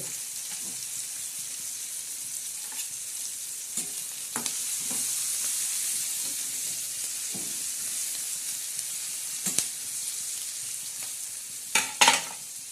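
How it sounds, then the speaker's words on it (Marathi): Chopped tomatoes and onion frying in a pan for a spicy sev curry, a steady soft sizzle broken by occasional spoon scrapes and clinks, with a louder clatter near the end and no talking. "हे बघा टमाटर बी आता फ्राय करत आहे"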